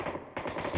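Short burst of gunfire in the mobile battle-royale game PUBG Mobile, a few rapid shots over a dense game soundscape, moderately loud.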